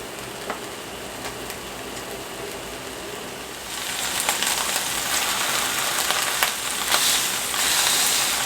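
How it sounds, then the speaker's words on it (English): Ham steak searing in a pan on high heat, a steady hiss and crackle that swells louder partway through as the heat rises, with scattered pops over the continuous sizzle. "So I'm going to turn this up and cook it on high. Because now I want to sear it a little bit."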